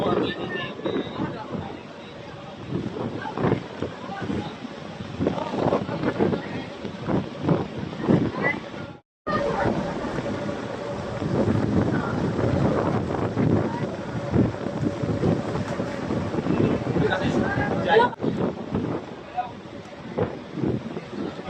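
Barge crossing the sea toward an island in strong wind, with heavy wind buffeting the microphone over a low engine and water rumble, and voices talking throughout.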